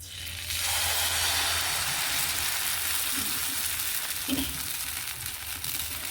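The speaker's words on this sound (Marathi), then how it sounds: "आता त्याच्यावर आपला वरईचा डोसा टाकून घेऊया" Barnyard millet (varai) dosa batter hits a hot oiled pan and sizzles in a steady, close hiss. A faint scrape sounds partway through the frying.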